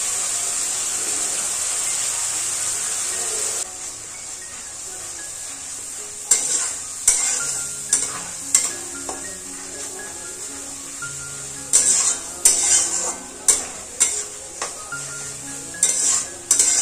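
Onions fried deep red and a spice paste sizzle in a pan for an egg curry, with a steady hiss and a run of sharp, rhythmic scrapes and clinks as a utensil stirs against the pan.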